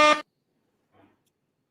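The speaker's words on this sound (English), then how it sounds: "You know I got to get air horns for that." A single short blast of an air horn sound effect on a sports radio show, loud and buzzy, cut off abruptly and followed by near silence.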